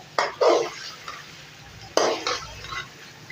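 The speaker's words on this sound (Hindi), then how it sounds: "आलू को मसाले में अच्छी तरह भूनेंगे।" Raw potatoes stir-fried in vegetable pulao masala, a spoon scraping and tossing them in a hot pan with sizzling, two close bursts of stirring about two seconds apart, no talking.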